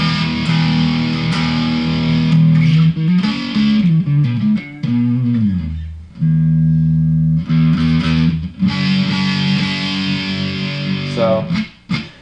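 An electric guitar plays through a stock Boss DS-1 distortion pedal with the distortion turned all the way down, giving a loud, sustained run of chords and notes with a few brief breaks.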